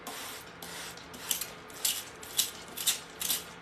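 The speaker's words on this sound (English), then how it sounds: "We're going to spray it down" Filtered water misted from a hand spray bottle over a tray of microgreens, a series of short, crisp hissing bursts at a steady rhythm, close and fairly quiet.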